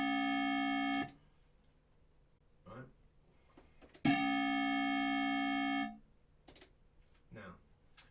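A synth bassline built with the Operator instrument in Ableton Live plays two sustained, buzzy harmonic notes, the first about a second long and the second about two seconds, separated by quiet clicks and a single brief spoken word.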